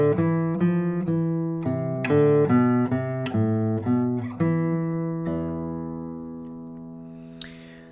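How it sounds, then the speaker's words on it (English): Guitar picking a stepwise melody from a scale, a run of about a dozen clear single notes followed by a final low note left to ring out, close and alone. "So now we're going to use the same scale to create a melody."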